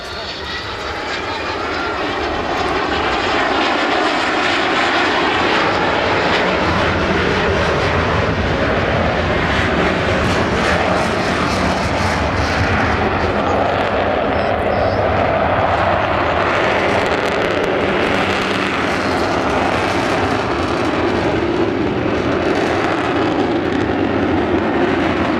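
An Avro Vulcan bomber, XH558, roars loud and steady at an air display in Southport in 2015, swelling in the first seconds and then holding a thick, continuous rumbling drone.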